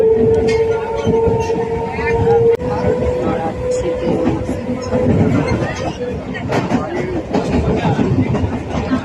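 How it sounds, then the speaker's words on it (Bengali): Inside a moving passenger train on a Bengal rail journey, steady rumbling wheels and carriage rattle with clickety-clack beats, while nearby voices and general chatter run over the noise throughout. "ট্রেনে বসে আছি"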